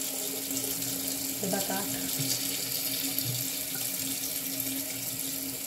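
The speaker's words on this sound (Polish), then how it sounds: "Nie wiem, czy będzie wam przeszkadzać ta woda." Steady running water from a household tap during cleaning at home, a constant close hiss with faint clatter, while someone briefly speaks over it.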